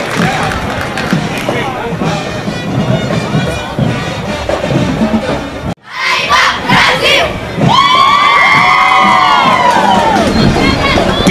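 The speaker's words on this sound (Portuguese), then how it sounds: "uma salva de palmas da população de Olvedos" A crowd of townspeople loudly cheers, shouts and claps for a youth marching band in Paraíba, Brazil; dense roaring noise, a brief dropout midway, then sustained cheering with rising whoops, and an announcer's voice under the din early on.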